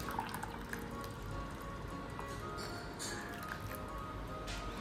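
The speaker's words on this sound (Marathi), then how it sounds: "हळूहळू हे व्हिनेगरचं पाणी त्याच्यात टाकायचं आहे" Vinegar water trickles slowly into warm milk, a faint steady pouring with light dripping and liquid sounds, close and quiet.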